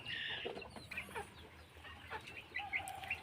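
Domestic chickens cluck and squawk in a mixed farm pen kept alongside ducks, with scattered calls of varying loudness coming close and a bit farther away over quiet ambience.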